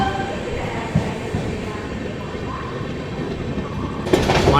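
The Narasapur–Tirupati weekly express rumbles along the rails after leaving Ongole, a continuous dense roar from inside the train with a brief surge of hiss near the end.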